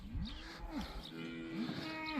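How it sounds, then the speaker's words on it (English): Several cows moo in a calving corral on a farm, overlapping low calls rising and falling, fairly close but quiet, with no talk. "So I just brought 4 cows into the close-up corral."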